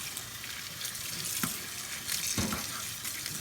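Ramen noodles are rinsed under a running kitchen tap, giving a steady close hiss of water with a couple of brief splashy surges as the noodles are moved about.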